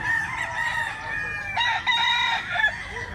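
A rooster crows loudly and close by, its long drawn-out call with a rising and falling pitch, followed by a second, broken crow, over a busy outdoor background with no talking.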